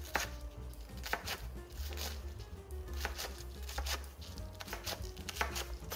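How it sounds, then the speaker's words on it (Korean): A knife chops chives on a cutting board in quick, irregular taps, close and fairly loud, with no talking. "부추도 작게 잘라줍니다"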